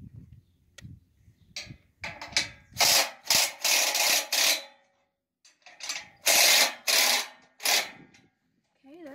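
Bolts being loosened on a Wood-Mizer LT15 sawmill, heard as a series of sharp, close, rapid ratcheting and scraping bursts in two clusters separated by quiet gaps, loud against a mostly silent background.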